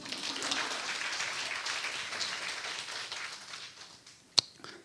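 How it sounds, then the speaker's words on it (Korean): Attendees at a keto, low-carb high-fat diet lecture clap in a soft, brief round of applause that fades out, ending with a single sharp tap. "박수 한번 주세요"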